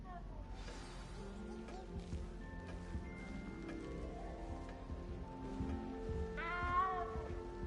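A cat in a Hogwarts video game meows several times, with a clearer, louder meow near the end, amid game music and ambient sound.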